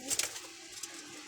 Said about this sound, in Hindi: देखो जी कबूतर अच्छे ने भाई जी